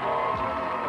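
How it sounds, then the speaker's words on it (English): A studio audience on a 1992 Carmen Sandiego game show cheers and applauds for a contestant, a loud, dense burst of crowd noise with shouts and whoops. "Give her a nice big round of applause."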